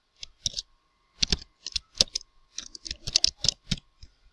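Computer keyboard typing of HTML code, a quick irregular run of crisp key clicks in short clusters with brief pauses, close and clear with no talk.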